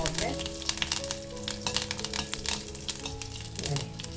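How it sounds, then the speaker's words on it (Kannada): Curry leaves sizzling and crackling in hot oil with cumin seeds and mustard seeds spluttering in a pan, a dense continuous fry with rapid pops and occasional stirring, no talk. "ಜೀರಿಗೆ ಸಾಸಿವೆ ಸಿಡಿಬೇಕಾದ್ರೆ ಇದ್ರೊಳಗಡೆ ಕರ್ಬೇವಿನ ಸೊಪ್ಪು ಕೂಡ ಹಾಕೊಳ್ಳೋಣ ಸ್ವಲ್ಪ ಮಿಕ್ಸ್ ಮಾಡ್ಕೊಳ್ಳೋಣ"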